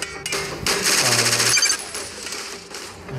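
Rapid rattling bursts of minigun fire in the video game Warfriends, loud and continuous for about a second before trailing into quieter mechanical clatter, with no talk.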